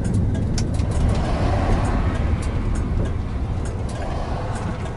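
Steady road rumble of a vehicle cruising along a highway, a continuous low drone with faint wind hiss, loud and constant throughout with no speech.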